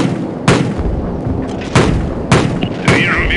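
Several loud booming shots from the video game Call of Duty 4: Modern Warfare fire at irregular intervals over a noisy, rumbling background, with a brief electronic whine near the end.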